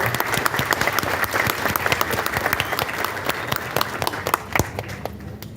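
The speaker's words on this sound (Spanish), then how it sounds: "Un aplauso, por favor." An audience at a memorial anniversary ceremony applauds with dense, sustained clapping that fills the space, then tapers off toward the end.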